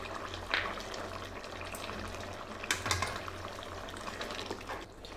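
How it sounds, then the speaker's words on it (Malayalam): Beef curry with roasted ground coconut bubbling in a pot, a soft continuous simmer with faint popping and crackle, close and fairly quiet, no talking. "നമ്മുടെ ബീഫ് കറി നന്നായിട്ട് തിളച്ചിട്ടുണ്ട്."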